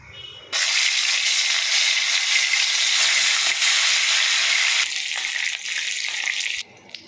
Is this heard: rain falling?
no